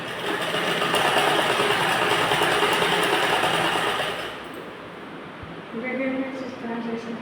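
A sewing machine stitches a blouse with a fast, continuous mechanical whir for about four seconds, then stops, leaving fainter handling sounds and brief mechanical taps.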